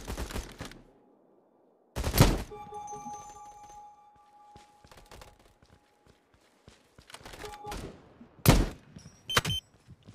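Sniper rifle shots in the video game Battle Prime, several loud sharp cracks spaced apart with ringing tails, mixed with lighter game effects and ambient sounds.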